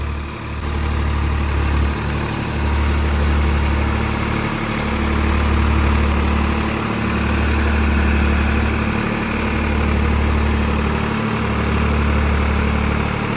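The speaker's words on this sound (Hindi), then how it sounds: "तो 1500 RPM रहेंगे दोनों ट्रैक्टरों के" Two tractors held at 1500 RPM in first low gear, their engines droning loud and steady with a deep pulsing throb that swells and dips every couple of seconds, no voices over it.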